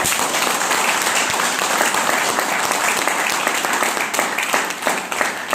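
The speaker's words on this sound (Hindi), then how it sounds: "जो हम सब के मेंटर हैं कुलदीप राणा सर, उनके लिए एक जबरदस्त तालियां होनी चाहिए।" An audience breaks into loud, continuous applause at a Vestige success-story event, a dense wash of many hands clapping close and steady throughout with no talk over it.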